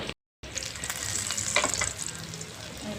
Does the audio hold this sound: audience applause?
no